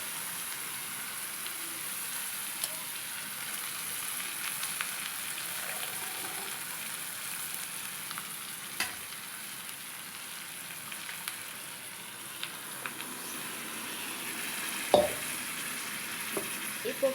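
Ground paste goes into a pan of fried paneer for a butter gravy and fries with a soft, continuous sizzle that holds evenly throughout, broken by a few faint clicks and one sharper utensil knock near the end.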